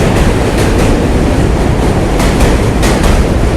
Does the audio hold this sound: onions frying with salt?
no